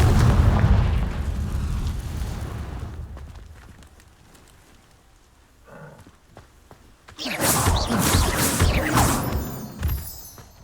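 A Confringo blasting spell in the Hogwarts Legacy video game, heard as a loud booming explosion that fades into a low rumble, then a second roaring blast with crackling debris.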